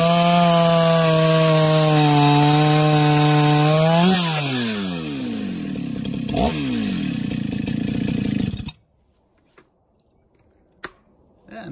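A restored old Husqvarna 288XP chainsaw being broken in while cutting wood, its loud engine revving steadily, then dropping in pitch as it bogs into the cut, before cutting off abruptly to near silence with a few faint clunks.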